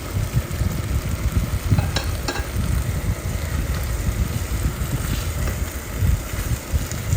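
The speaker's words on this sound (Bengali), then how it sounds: "এবার একটু নেড়ে নিতে হবে মাংসগুলো দিয়ে পুরো মশলাটা মাংসে লেগে যাবে" Chicken pieces stirred into oily frying masala for malai chicken tikka gravy, a loud, rough sizzle with heavy low rumbling and a couple of sharp clicks from the spoon.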